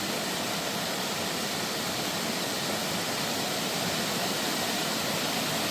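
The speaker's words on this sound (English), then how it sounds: "All that mountain water." Rushing mountain water on the Appalachian Trail in Virginia flows in a constant, dense roar like a stream or cascade, steady and unbroken throughout.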